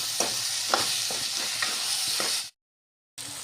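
Chopped broccoli with potatoes and chickpeas cooking in a pan, with soft sizzling and repeated scraping stirs, a brief silent gap near the end before the sizzle resumes.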